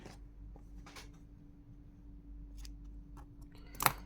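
A single quick snip of scissors cutting a strand of brown yarn for a crochet bunny keyring, a sharp brief click near the end after quiet handling rustles.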